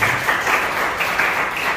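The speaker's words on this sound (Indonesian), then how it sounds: "Berikan tepuk tangan untuk dia" Applause from a church congregation at a Sunday worship service, a steady loud wash of many hands clapping throughout.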